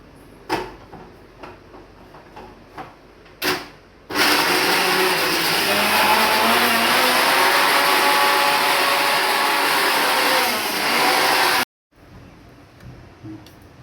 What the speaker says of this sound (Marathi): गूळ आणि शेंगदाण्याचा कूट जो बारीक केलाय ना तो आता मिक्सरला परत लावून घ्यायचा